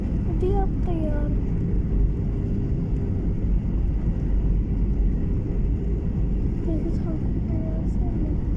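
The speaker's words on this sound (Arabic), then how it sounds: "الطيارة فيها الصوت." Inside a passenger airliner cabin, a constant low engine drone and rumble fills the space, close and steady, with faint brief tones over it.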